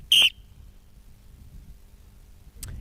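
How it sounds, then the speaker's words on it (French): A single sharp, shrill referee's whistle blast at the start of play resuming in a sports match, then quiet low background rumble, with a faint brief noise near the end. "le jeu reprend mon coup de sifflet"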